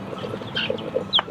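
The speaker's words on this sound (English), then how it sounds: "It's a big chicken." A large farmyard chicken clucks several times in quick, uneven bursts, close and fairly clear against quiet background noise.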